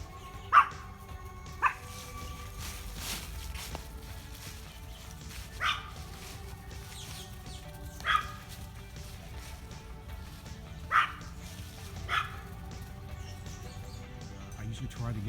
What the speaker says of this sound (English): I've let the dogs out for their morning run